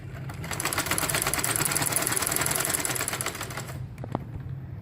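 Close, loud sewing machine runs continuously for several seconds, double-stitching the last seam of a peplum umbrella frock, a steady rapid mechanical chatter that eases off near the end with a couple of sharp clicks.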